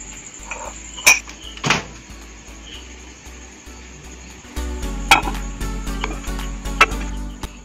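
A covered dish of sweet tomato curd goes into a preheated microwave oven. A few clunks and clatters of the dish and door are followed by a steady low hum as the oven starts running, with no speech.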